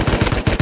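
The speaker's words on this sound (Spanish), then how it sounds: "Me disparan." Rapid automatic gunfire in the video game Rust rattles close and loud in a tight burst of repeated shots, with no talk over it.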